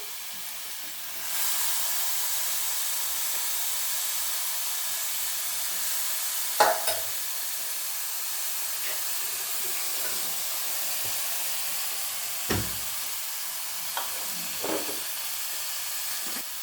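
A chicken gravy base sizzles in a frying pan as it is stirred, giving a continuous steady hiss with a few brief spoon scrapes and knocks.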